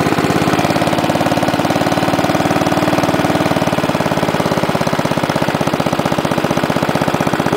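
A Wheel Horse A-800 Ranger lawn tractor engine idles right up close, a loud, steady, rapid chugging putter that holds an even rhythm from start to finish.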